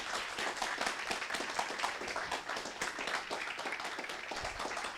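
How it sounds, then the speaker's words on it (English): Quiet audience applause at an academic lecture in Rio de Janeiro, a soft, continuous patter of many hands clapping, heard faintly at a distance. "That's your cue for applause,"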